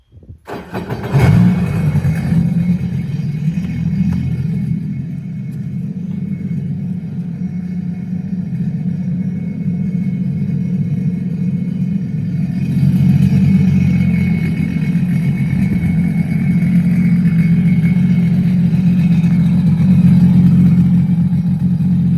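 A jet ski engine, the donor for a jet boat build, sputters to life and settles into a steady, loud, low rumbling idle that runs continuously with no talking.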